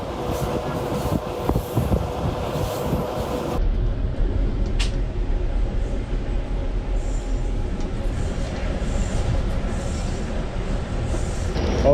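A Yugoslavian passenger train rolls along the rails with a steady rumbling clatter, loud and continuous. A brief high squeal cuts through partway, and the tone shifts as the ride goes on.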